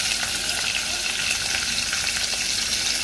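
Curry leaves, cumin and green chilies sizzle in hot oil in a pan, a close, steady, crackling fry that runs continuously without talk.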